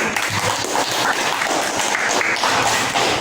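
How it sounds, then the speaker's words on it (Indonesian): A class applauds a student discussion group named Cendrawasih, giving a dense burst of clapping from many hands, loud and close, steady throughout with no voices on top. "berikan tepuk tangan untuk kelompok cendrawasih"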